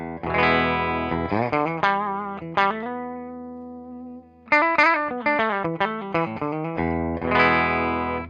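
Distorted Harley Benton HB-35 Plus electric guitar on the bridge pickup, with effects, plays bright chords and ringing single notes, loud and close, with a pause in the middle before strumming resumes.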